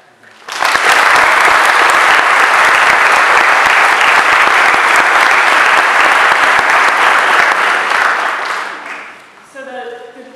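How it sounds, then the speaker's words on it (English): Loud, sustained audience applause at a school graduation, honouring the faculty and staff, rising sharply and holding steady for about eight seconds before fading, with a brief voice at the end. "I'd like to take a moment and have the students give a round of applause for the faculty and staff"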